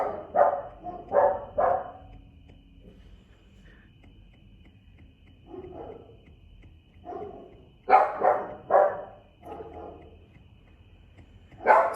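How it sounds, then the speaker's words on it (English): A small dog barking in a room, bursts of three or four sharp yaps near the start, scattered single barks through the middle, and another quick run of loud barks near the end. "Excuse my little doggy."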